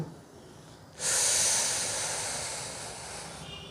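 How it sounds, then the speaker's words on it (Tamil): A long, forceful breath is drawn in through clenched teeth as part of a pranayama exercise, a sudden loud hiss that starts after a quiet moment and slowly fades while sustained close to the microphone. "பல் மூலியமாக இழுக்கிறது மூச்சை."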